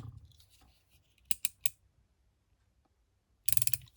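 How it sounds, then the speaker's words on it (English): Scissors trim paper ephemera to size: three quick, crisp snips close by, a quiet pause with faint handling, then a louder rapid cluster of cuts at the end. "I do have to cut this to size a little bit."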